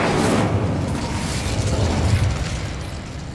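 Incendio, a fire spell in Hogwarts Legacy, erupts as a loud, roaring burst of flame that keeps rushing and crackling before slowly easing off.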